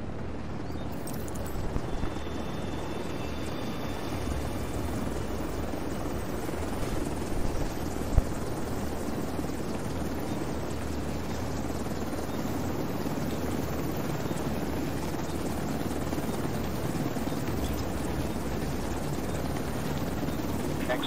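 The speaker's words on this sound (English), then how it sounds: "Once you've fired a flare to request an extraction, wait for the helo to arrive." An extraction helicopter in The Division 2 approaches with a steady, loud rotor roar that holds for about twenty seconds, broad and unbroken, with faint game effects and no clear talking.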